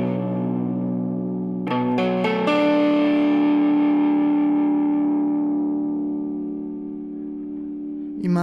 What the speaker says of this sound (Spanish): Voy a exagerar un poco más el efecto para que noten lo que digo de que tiene más distorsión.